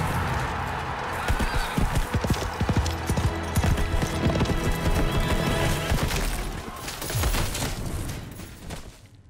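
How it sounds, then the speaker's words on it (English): Horse galloping in a jousting scene, loud rapid hoofbeats pounding close by with clattering impacts, then fading, alongside a brief whinny under a busy, dense mix. "Giddy up, Peanut"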